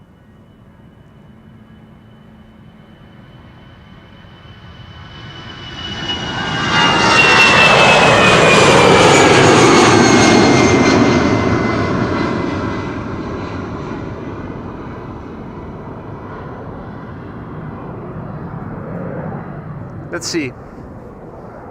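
A Qatar Airways airliner's jet engines swell from a distant rumble into a loud, broad roar as it departs Schiphol Airport, peaking then fading slowly with a whining tone; someone speaks briefly nearby.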